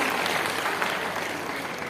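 Applause welcoming a guest, the director of OK Film India, at a business event: dense, steady clapping from a sizable audience fills the whole stretch without a break.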